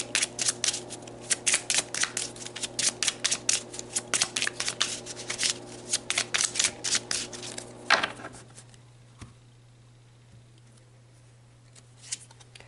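Tarot cards shuffled close up in a quick run of crisp riffling flicks for about eight seconds, then a hush with only a couple of faint taps over a low hum.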